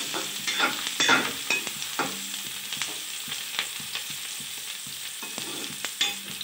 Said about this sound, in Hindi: यहाँ पे हमारा प्याज भून रहा है